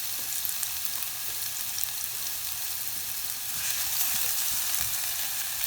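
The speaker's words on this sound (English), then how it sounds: "Sauteed the onions till they're soft." Onions saute in a tablespoon of oil in a pan, giving a steady sizzle and crackle that rises slightly near the end, with no voices.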